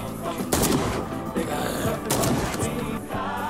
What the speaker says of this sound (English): I want to shoot him now.